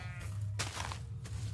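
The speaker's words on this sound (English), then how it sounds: "I hear a constant sheep noise." Sheep bleats in the Minecraft video game, a short wavering bleat followed by a second one, moderately loud over a steady low hum.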